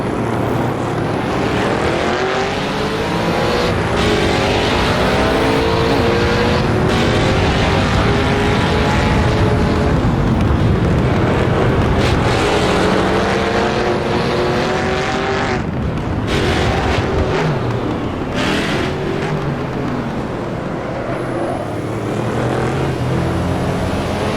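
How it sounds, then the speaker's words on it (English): Race car engines roar continuously and loudly as cars pass slower GT cars on the Daytona banking during a 1971 World Sportscar Championship 24-hour race in a racing game, with overlapping engine notes swelling and fading. "We've got a few GT cars up ahead, but we should be able to pass them on the banking here."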